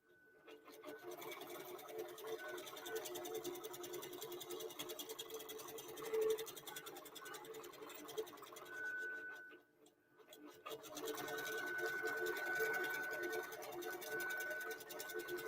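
A QBOT V3 robotic quilting machine stitches a quilt design with a fast, continuous mechanical needle chatter and motor whir. It pauses briefly partway through, then resumes at a steady, moderate level with no one talking.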